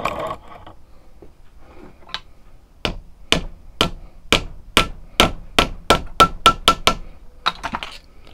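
Hammer strikes drive countersunk nuts into a wooden handle of a homemade survival knife held in a vise, a run of about fifteen sharp, close, loud metallic blows that start sparse and quicken into a steady rhythm.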